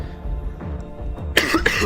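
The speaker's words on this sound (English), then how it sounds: "That was a weird cough." A single sharp, close cough bursts out over a low background of game music, followed quickly by a second shorter cough.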